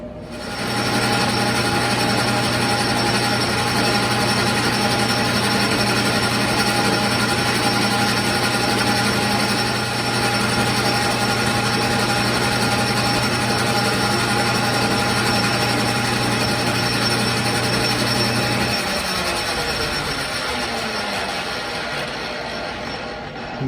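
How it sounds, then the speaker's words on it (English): A metal lathe facing and drilling a metal screw jack part runs continuously with a steady mechanical whine and grinding cutting noise, holding constant before the tone drops near the end. "Now I'm going to face that and then drill a hole to accommodate and then cut it off."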